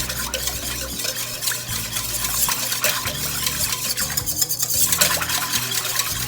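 Continuous scraping and stirring of burger bun dough ingredients (sugar, yeast, powdered milk) in a bowl, close by with no talking.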